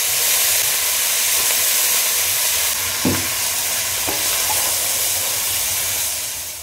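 A tadka tempering for a barbati bean curry sizzles steadily in hot oil, a loud, continuous close-up frying hiss with a couple of faint utensil taps, and no voices.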